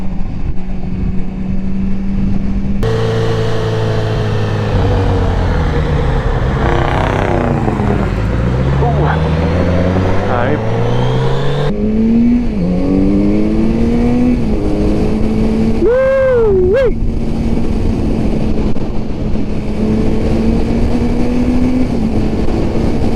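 Inline-four engine of a 2021 Kawasaki Z900 RS Cafe motorcycle while riding, a steady drone that rises and falls through gear changes and revs, loud and close with wind noise throughout.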